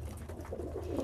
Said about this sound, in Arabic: عندي مثلا في حمام شغال ومش شغال، زي دي مثلا، دي حمامه شغاله